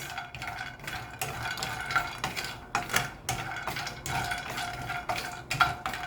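Cashew nuts stirred in a pan as they gently roast, giving light, irregular scraping and clinking close by with no talk.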